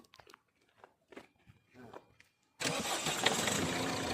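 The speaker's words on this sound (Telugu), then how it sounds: "ఇప్పుడు మనం ఇంజిన్ స్టార్ట్ చేసాం" A few muffled words and small clicks, then a Ford Figo engine with an injector problem cranks and roars to life, idling loudly and steadily until the end.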